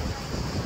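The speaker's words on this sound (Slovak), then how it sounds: "strašne tu fúka" Strong wind in Split, Croatia buffets the microphone with a loud, steady rumbling roar across a very short stretch.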